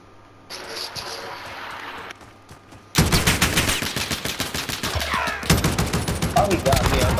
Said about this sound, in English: I thought he was shooting at him.